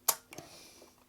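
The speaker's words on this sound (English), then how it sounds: "Fire the shutter" The shutter of a Pal M4 35mm coupled rangefinder camera fires with one sharp, close mechanical click, then a softer secondary tick, and the clip goes quiet after that.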